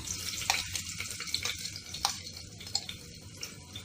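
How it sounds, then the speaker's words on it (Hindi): Two finely chopped green chillies frying in hot oil, giving a steady close crackling sizzle with sharp spattering pops throughout and no talking. "ऑयल गर्म हो गई है और अब मैं ये 2 बारीक कटी हुई हरी मिर्च ये डाल दे रही हूँ"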